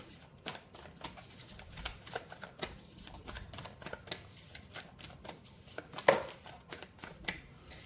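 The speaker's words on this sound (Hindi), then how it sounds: "चलिए थोड़ा सा ओशो से भी कुछ कार्ड्स निकाल लेते हैं" Osho tarot cards being shuffled and drawn from a deck, a soft run of quiet papery riffles and flicks close by, with one sharper snap near the end and no talking.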